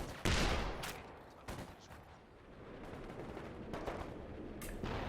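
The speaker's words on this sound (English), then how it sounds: "There's the MG34." An MG34 machine gun fires in a Company of Heroes 2 battle as a few distant, moderately quiet bursts and shots, spaced apart over a low battlefield rumble.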